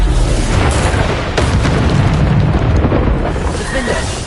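Bombarder explosive spell in Hogwarts Legacy, loud continuous booming explosions with crackling debris, layered with battle noise and a voice calling out.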